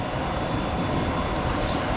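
A Swiss train runs toward Lucerne, a steady, loud broadband rumble and rolling roar heard from on board, unbroken for the whole stretch with no voices.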